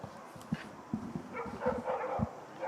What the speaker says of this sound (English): You can hear a dog barking in the distance there at the Basin.